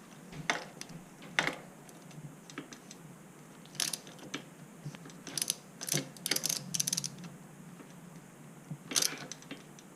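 A BMX crank being tightened onto a sealed bottom bracket, close, bursty ratcheting clicks from a wrench in several short runs separated by pauses, with no voices.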